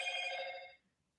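A telephone bell rings in a TV show, one bright ringing burst for most of a second that then stops cold, leaving near silence.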